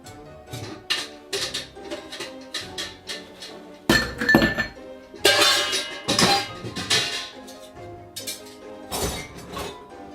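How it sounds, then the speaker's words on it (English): Two giant ice cubes dropped into a cocktail mixing glass, giving sharp glassy clinks and heavy thunks in scattered bursts, loud and close with short gaps between them. "get a mixing glass and put in the ice cubes. I'm going to put in 2 giant ice cubes."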